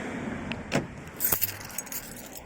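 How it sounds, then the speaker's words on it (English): Keys jangle briefly and a faint electronic chirp sounds as a Porsche Cayenne V6 is locked, a few quick close clinks against a quiet background. "So I'm going to lock the car."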